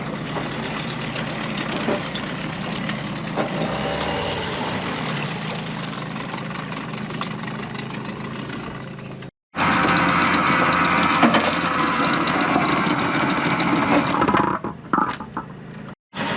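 A generator aboard a cruising sailboat runs steadily to power the bow anchor windlass as the anchor is raised, a continuous mechanical engine drone that cuts out briefly midway, then resumes and stutters near the end.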